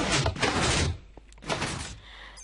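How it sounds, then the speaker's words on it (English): A wire-triggered piston door in a block-building video game opens with a couple of heavy, noisy sliding thumps separated by a short pause, fairly close and heard alone. "Then I have a wire-triggered piston door."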